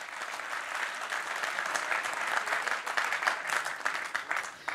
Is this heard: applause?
yes